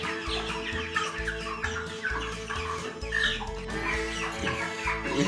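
Several chickens cluck and squawk close by in a busy, overlapping chorus, with low background noise underneath.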